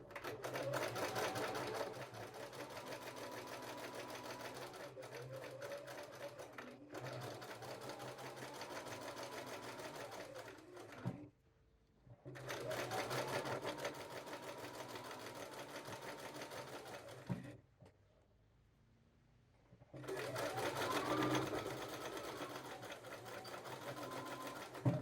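A sewing machine stitches along the edge of a jeans front pocket bag in three long continuous runs, separated by two brief pauses, close and steady throughout.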